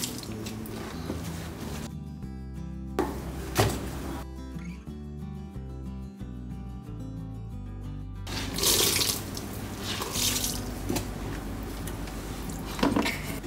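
Rinse water gushes and splashes steadily out of a drain hose from a home washing machine, with the flow cut off partway through before it resumes.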